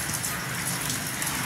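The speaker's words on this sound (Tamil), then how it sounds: "நல்ல மழை பெய்யுதுங்க, இங்க பாருங்க மழை பெய்யுறத பாருங்க" Heavy rain falls steadily outdoors, a dense, even hiss of drops with no pauses or other sounds.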